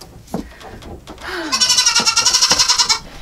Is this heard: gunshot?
no